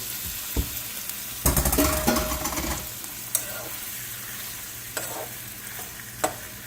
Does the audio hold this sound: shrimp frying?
yes